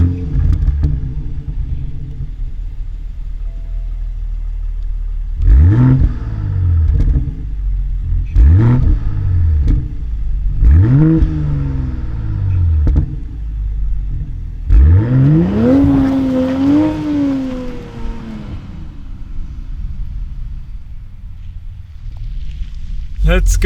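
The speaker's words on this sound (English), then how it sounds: "let's go for our first snow drive in the Supra" A 2023 Toyota GR Supra with a manual gearbox drives on snow, its engine revving up and dropping in repeated pulls through the gears, a deep rumble under a voice talking throughout.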